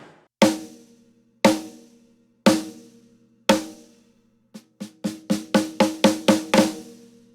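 A Gretsch Brooklyn hammered chrome over brass snare, 14 by 6.5 inches, with a clear Remo CS head taped down. It gives four spaced, ringing strikes, then a quickening run of hits, loud and close with no other sound.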